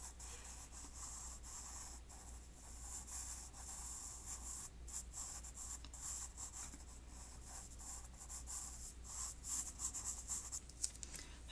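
Charcoal is brushed lightly over drawing paper in a soft, continuous scratchy rubbing, very faint and close, with brief pauses between strokes and no talk.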